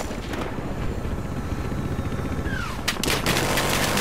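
Sustained automatic gunfire in the shooter game Battlefield Hardline, loud and continuous with overlapping shots and rattling bursts, intensifying near the end.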